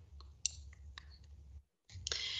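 Several light, crisp computer mouse clicks land at irregular intervals over a low room hum, broken by a brief dropout of silence before more clicking resumes.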